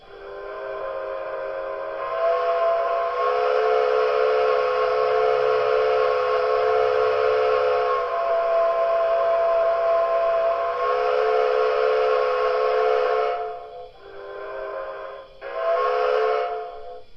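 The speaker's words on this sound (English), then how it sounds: "Let's hit the quilling whistle and see what that sounds like." A quilling steam whistle on an MTH Premier Reading T1 4-8-4 Northern model locomotive blows one long, loud, wavering chord for about twelve seconds, then two shorter toots. No one speaks.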